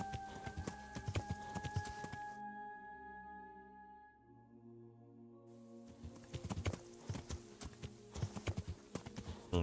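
Horse hooves clip-clop steadily while riding in the medieval game Kingdom Come: Deliverance, loud rhythmic footfalls that drop out briefly mid-way under a sustained musical tone, then return at a trotting pace.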